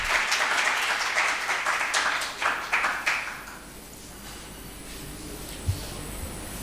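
Audience applause at a CitroPak Iqbal Day event, clustered claps for about three seconds that then fade out, leaving quiet room tone with a single later knock.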